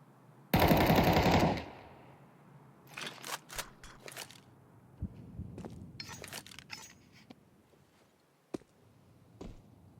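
An AWP sniper rifle fires in a Counter-Strike professional match, one loud, close blast about a second long, followed by quieter clicks, clatter and footstep-like taps from the game.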